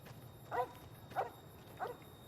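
A dog in Fallout New Vegas barks three times at an even pace, each bark moderately loud and somewhat distant over a quiet low ambient hum.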